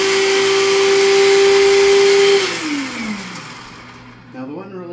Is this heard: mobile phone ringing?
no